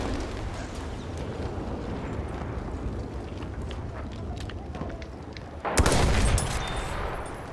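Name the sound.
grenade explosion in Battlefield 1 video game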